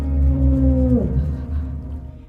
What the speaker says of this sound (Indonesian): suara tersebut adalah suara ikan paus yang mengeong